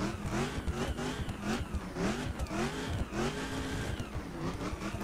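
A supercharged 2012 Dodge Challenger SRT in a racing game revs hard and steadily, its engine note rising and falling in repeated sweeps with a constant loud drone and faint tire noise.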